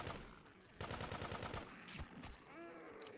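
Rapid machine gun bursts from the Grand Theft Auto 2 weapon fired in Garry's Mod, a quick run of sharp shots in the first half followed by scattered single reports and a brief whine.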